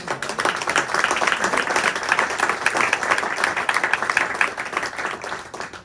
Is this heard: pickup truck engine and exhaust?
no